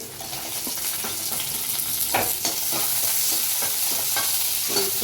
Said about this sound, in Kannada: ಒಂದು 1 ಮಿನಿಟ್ ಫ್ರೈ ಮಾಡಿ